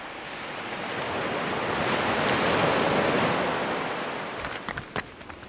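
Surf rolling in on the long, wild beach at Traeth Marlais in Pembrokeshire, one broad wave swelling and fading in a steady wash, followed by a few close bumps of wind on the microphone.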